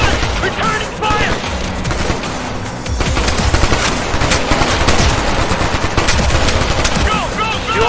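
Dense, loud gunfire from a Ghost Recon Future Soldier firefight, with rapid automatic bursts and scattered single shots running continuously, mixed with shouted voices in the background.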